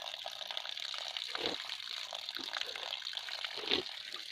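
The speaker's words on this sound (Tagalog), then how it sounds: "continuous yung agos ng tubig na yun guys" Water flows steadily outdoors at a nature spot, a continuous hiss of running water from a hose or outlet that holds even and fairly loud throughout, with a few brief soft bumps and no clear talk over it.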